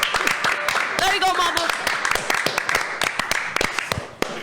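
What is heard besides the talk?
audience applause in studio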